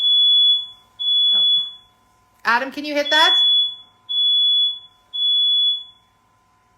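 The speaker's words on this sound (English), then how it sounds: "We have a fire alarm going off" Smoke alarm beeping in a home kitchen while ground turkey is being cooked, a loud, piercing tone repeating in regular pulses, with a short spoken question interrupting between beeps.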